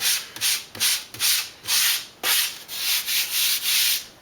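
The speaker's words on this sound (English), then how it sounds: "I'll kind of take that ridge out a little bit with a little bit of sanding." Sandpaper rubs rhythmically over a foam wing core for a composite model plane, about ten close, loud back-and-forth strokes with brief pauses between, no voices.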